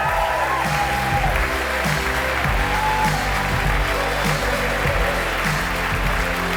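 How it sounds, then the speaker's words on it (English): An audience at the ANCHOR Award Show during Reeperbahn Festival 2023 applauds to welcome Banks, with sustained clapping and some crowd noise filling the hall at a steady, fairly loud level throughout. "Big round of applause and welcome"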